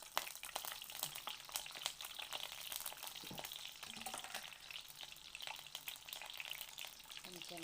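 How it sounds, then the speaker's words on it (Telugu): Eggs fry in a chili and turmeric masala in a pan, a soft, continuous sizzle with scattered crackles and light stirring taps, fairly quiet and close. "కొంచెం కారం వేసి ఎగ్స్ని మంచిగా వేగనివ్వాలి"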